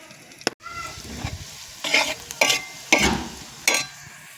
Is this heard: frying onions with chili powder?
yes